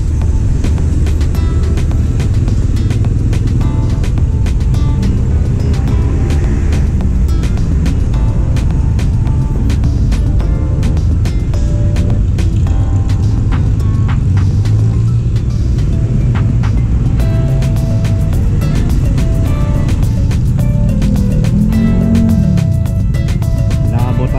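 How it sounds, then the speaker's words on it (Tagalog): Road traffic on a city street near De La Puente Street and Lacson Avenue in Manila, Philippines: a steady, loud wash of engines and tyre noise, with passing vehicles and occasional horn-like tones, and no talk. "konting build up ng traffic dito"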